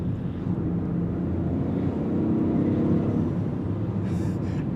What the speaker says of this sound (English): And the turbo's making good noises. You hear that induction noise, you hear the blow off